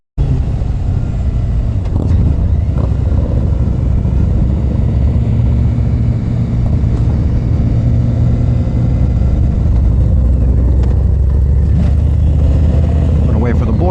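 Harley-Davidson motorcycle engine rumbles deep and steady nearby for the whole stretch, with a few faint swells in revs and voices partly audible under the motor.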